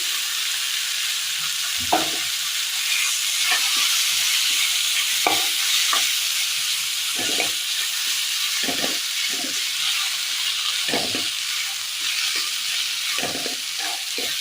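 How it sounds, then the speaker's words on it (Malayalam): Boiled potato with sautéed beans and onion stirred in a frying pan, steady sizzle throughout with repeated scraping strokes of the spoon at irregular intervals, close and clear with no talking. "നന്നായി ഇളക്കി കൊടുക്കാം."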